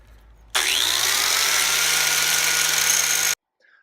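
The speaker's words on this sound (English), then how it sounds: "I'm just going to get the grinder in there." A grinder spins up abruptly and whines steadily at close range while rounding off the inside edge of a knife, holding one loud, even tone for nearly three seconds before cutting off sharply.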